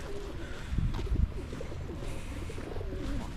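Pigeons coo repeatedly around a heavily used rubbish bin on a city street in Poltava, their soft throaty calls rising over steady outdoor background noise, with a few louder bursts partway through.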